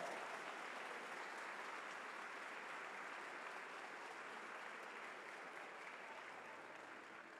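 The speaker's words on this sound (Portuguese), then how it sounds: "Aplauda ao Senhor." A church congregation applauding together, a dense, steady wash of clapping that holds evenly for several seconds from the room at a moderate distance, with no voices over it.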